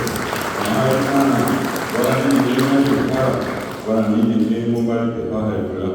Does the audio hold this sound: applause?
yes